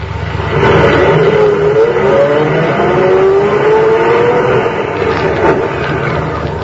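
Car in a 1940s radio drama driving through the gates of a country estate, a steady close engine drone with rising pitch as it moves off.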